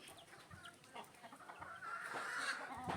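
A broody hen sits on eggs in hot weather and clucks softly and repeatedly, close by and fairly faint against a quiet background. A few louder, drawn-out calls come near the end.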